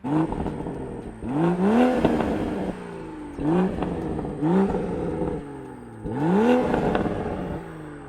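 A 2023 Toyota Supra GR's B58 engine revs up repeatedly in three bursts, rising in pitch each time and then dropping back to idle, loud and close.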